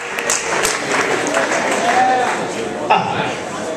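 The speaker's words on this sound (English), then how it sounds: "Cheer for Carter." An audience at a Nerd Nite lecture cheers and claps for presenter Carter, a busy, moderately loud wash of applause with scattered whoops and crowd voices.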